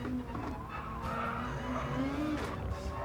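A GT-R race car in Gran Turismo Sport brakes hard into the Delle Rogge chicane, tires squealing in a sustained, wavering skid over the engine's drone.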